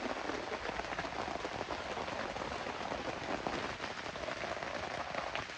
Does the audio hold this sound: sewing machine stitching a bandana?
no